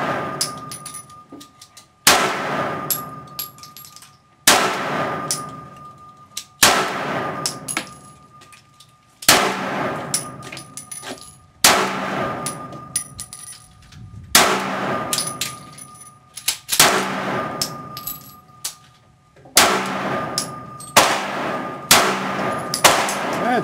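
A Sig Sauer 9mm pistol firing at metal targets. About ten sharp shots come at a slow, even pace, each with a bright ringing clang and a short decaying tail.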